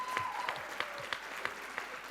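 An audience at a JavaScript tech talk claps in a steady, moderately loud round of applause.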